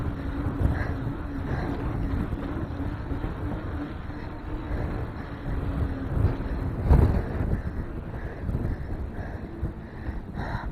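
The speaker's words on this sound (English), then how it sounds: "This is a really strong headwind." Strong headwind buffeting the microphone while riding a trail bike, a steady roaring rush with gusts and a brief thump near the middle, no talk.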